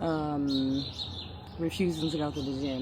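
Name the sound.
birds chirping outside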